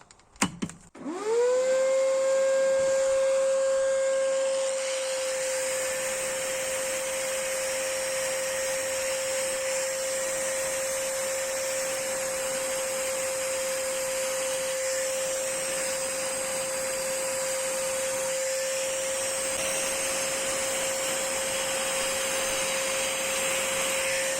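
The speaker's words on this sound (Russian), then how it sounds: "Также подключаем пылесос." A vacuum cleaner switches on with a brief clatter, spins up to a steady high whine and keeps droning loudly and evenly.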